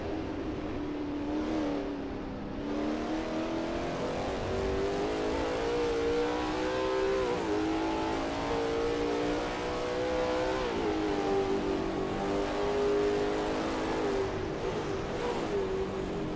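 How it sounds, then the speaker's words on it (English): A Lola T70 MkII Spyder race car at Sebring in a racing game, its engine note droning loud and continuous as it rises and falls through gear changes and corners. "Malero is expertly commanding that car through Gendebien Bend"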